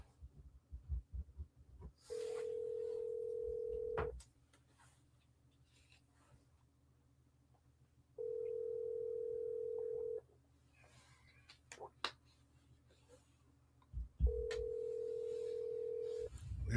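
Phone call ringing out unanswered during street interviews: three long, steady ringback tones, each about two seconds and spaced roughly six seconds apart, over quiet background noise and faint knocks.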